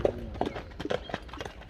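Horse hooves clip-clop in a quick, uneven rhythm of sharp knocks at a Kyrgyz rural horse gathering for ulak in Nookat, moderately close, with no talking over them.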